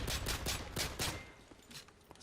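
Gunfire in the video game Call of Duty Modern Warfare 3, a rapid burst of several sharp shots in quick succession, loud and close, then a couple of fainter shots trailing off.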